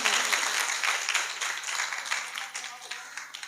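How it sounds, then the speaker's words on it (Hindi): A congregation at a church morning meeting claps in a dense, sustained round of applause that fills the whole stretch, with crowd voices mixed into it. "जोरदार ताली के लिए।"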